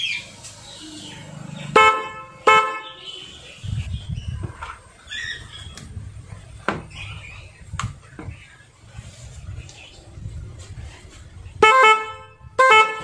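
Short car horn honks sound a few times, loud and close, separated by rustling and handling noises.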